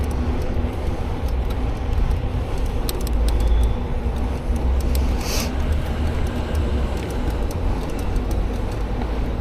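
A car drives close behind on a dusty road, its steady engine and tire rumble continuous and fairly loud throughout, with faint clicks and a brief hiss midway.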